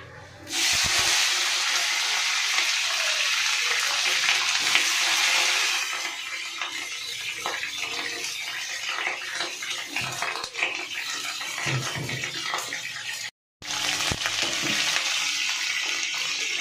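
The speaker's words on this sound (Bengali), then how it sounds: "তাহলে চলো কপিগুলোকে ভেজে নিই।" Cauliflower pieces frying in hot oil in a wok, a steady loud sizzle and hiss that runs almost the whole time and drops out once for a moment near the end.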